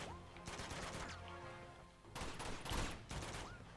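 Gunfire in the PS4 game Uncharted 2: Among Thieves during a train yard fight, several sharp shots in quick bursts mixed with game sounds, fairly close and punchy throughout.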